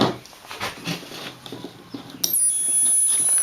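A Joule ringer circuit driving a single bulb with a 0401 transistor gives a steady, high-pitched resonating whine that starts partway through, after soft rustling and handling noises.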